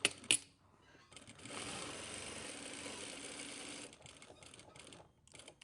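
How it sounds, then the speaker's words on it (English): Sewing machine stitching a pocket flap with a back tack: a couple of sharp clicks, then a steady whirring run of stitches for a few seconds, followed by softer intermittent mechanical ticks. "we're going to sew the width of the foot, back tack"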